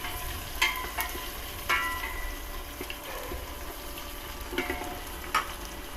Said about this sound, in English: Saute.